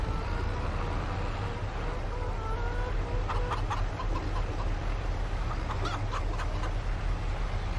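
Chickens in Farming Simulator 22 cluck in short bursts over a steady low farm hum, the calls growing busier toward the end.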